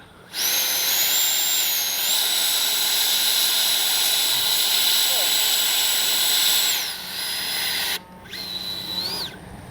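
A small FMS 70mm A-10 Thunderbolt II RC jet with ducted fans flies in gusty wind, giving a loud, steady high-pitched whine that rises and falls in pitch as the aircraft passes.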